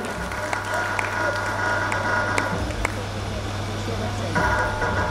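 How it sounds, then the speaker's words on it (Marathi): Applause from a crowd at a Shravan festival event, a steady wash of clapping lasting the whole stretch, with a low hum and a few sharper claps on top. "जोरदार टाळ्या वाजवायच्या"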